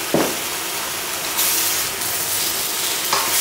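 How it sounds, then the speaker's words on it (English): Oxtail, lamb and vegetables fry in a pan with steady close sizzling hiss, broken by a few louder bursts as the food is stirred. "We're gonna keep on stirring the meat and the veggies here"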